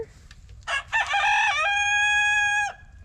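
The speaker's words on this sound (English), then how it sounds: "Are you gonna crow again, Mr. Rooster?" A rooster gives a single full cock-a-doodle-doo, clear and fairly close, beginning with short rising notes before a long sustained call that cuts off sharply, over quiet low background noise.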